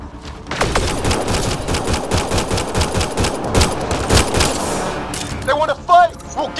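Rapid automatic gunfire and bursts of shots in the video game Mass Effect Andromeda, loud and dense through most of the clip, with shouted voices and a few electronic chirps near the end.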